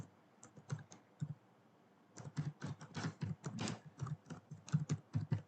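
Keystrokes rattle on a computer keyboard while someone fills in an online university application form, a few isolated taps first, then a quick, steady run of clicking typing, close and clear, with no voices.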